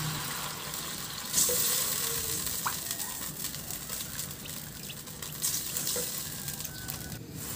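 Water poured into a pan of fish sizzling in sauce, a steady frying hiss with running, splashing water mixed in, fairly close and continuous with no talk.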